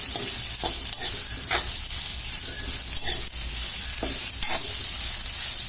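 Bitter gourd slices frying in a pan and being stirred, giving a loud, constant hissing sizzle with occasional scraping strokes from the utensil, close up.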